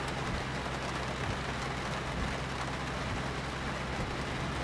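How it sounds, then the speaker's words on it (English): A steady, dense downpour in a storm in the trucking game Hard Truck 18 Wheels of Steel, broadband hiss of rain with a low rumbling bed underneath, loud and unbroken throughout. "it's snowing and raining and storming all at the same fucking"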